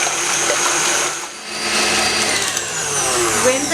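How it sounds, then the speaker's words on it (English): A whisk beats egg whites in a bowl while sugar is added little by little, for a vanilla Swiss roll. A steady, loud whirring drone runs throughout with a slight dip midway, probably from an electric mixer. "add about tablespoon of sugar and start whisking"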